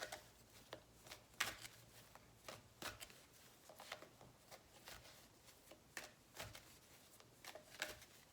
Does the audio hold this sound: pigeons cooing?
no